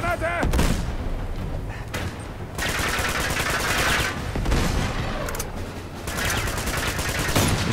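Grenade blast and rapid gunfire in the PlayStation 4 game Uncharted: Among Thieves, loud bursts of shooting that recur in dense clusters across the scene, with a few short pauses between volleys.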